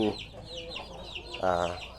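Young Ko Sem bloodline hens cluck repeatedly up close, with a burst of louder, throatier clucking near the end over farmyard background noise.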